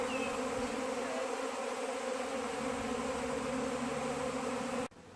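A honeybee swarm circling in the air while seeking a place to settle, giving a dense, continuous buzzing drone that holds steady and loud before cutting off abruptly at the end.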